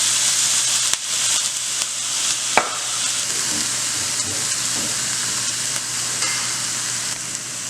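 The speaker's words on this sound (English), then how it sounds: "So we're going to go ahead and start sauteing it for about only 2 minutes" Finely chopped jalapenos and half a white onion sizzle in olive oil in a pan, a close, steady frying hiss marked by a few spoon clacks and one sharp knock.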